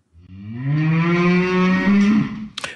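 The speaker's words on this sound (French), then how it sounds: "c'est une vache que nous avons interviewée à Sud Radio ce matin" A cow gives a single loud, close, drawn-out moo lasting about two seconds, rising slightly in pitch before breaking off, followed by a brief clatter.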